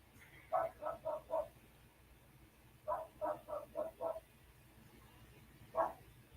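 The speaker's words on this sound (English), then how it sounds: "You can hear him barking, can't you?" A dog barks at a distance in short bursts: a run of four, then five, then one more, over faint background hum.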